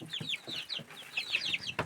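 Young chicks being fed chirp in quick high peeps over soft low clucking, a busy, quiet chorus close at hand.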